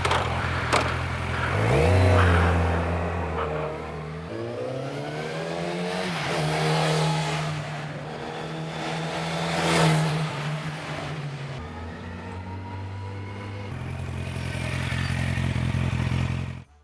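A motorcycle with its stock exhaust passes by, its engine rising as it approaches and fading as it rides away, with a steady mid-pitched drone.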